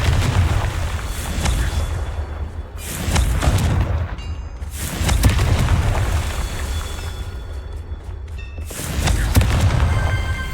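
Repeated Confringo fire spell blasts in Hogwarts Legacy: several loud booming bursts, roughly every few seconds, each a crackling roar over a steady low rumble, with brief chiming magical tones between them.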